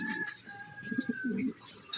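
Soft, low cooing from a mother pigeon beside her chicks repeats in short throaty pulses, close by, with faint higher bird tones in the background.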